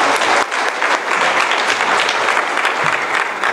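A church congregation bursts into sustained, dense applause, loud and continuous with no clear pauses, filling the room at a service with an evangelist.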